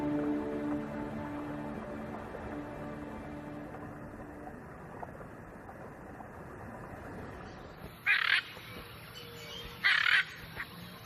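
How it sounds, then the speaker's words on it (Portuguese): Large hyacinth macaws in the wild Brazilian wetlands give two loud, harsh squawks near the end, after a quiet stretch of low ambient rumble and faint background sounds. "Araras azuis grandes"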